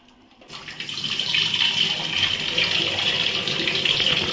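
Water pouring over mushrooms in a bowl for washing, starting abruptly after a brief silence and continuing as a steady, close splashing flow.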